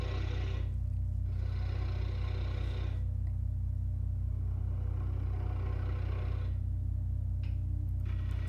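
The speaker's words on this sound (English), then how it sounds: "There you can see I was using the left side of the bowl gouge, now I'm using the right side of the bowl gouge" A bowl gouge cuts into the interior of a live-edge elm crotch bowl spinning on a lathe: steady motor hum under bursts of rough, hissing cutting noise that come and go as the tool engages, close and constant.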